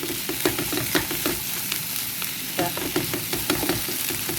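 Chopped okra fries in a hot pan with salt, a steady sizzle broken by regular scraping stirs of a spoon at close range, no voices.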